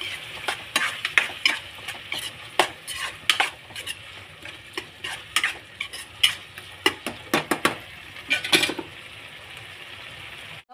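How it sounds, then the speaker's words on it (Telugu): Prawns with ginger garlic paste and salt, for an Andhra-style prawn and drumstick curry, are stirred in a sizzling pan. A spoon repeatedly scrapes and knocks the metal in an uneven rhythm over a soft, constant frying hiss. "అల్లం వెల్లిపాయ పేస్ట్ ఒక టీ స్పూను, కొద్దిగా సాల్ట్ వేసుకొని బాగా కలుపుకోవాలి"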